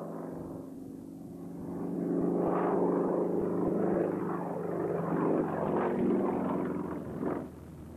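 A Yak 50 aerobatic propeller plane flies a display routine, its radial engine droning steadily with rising and falling pitch as it maneuvers at a moderate distance, heard alone without talk.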